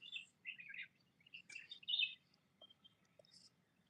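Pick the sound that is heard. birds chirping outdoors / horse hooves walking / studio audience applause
birds chirping outdoors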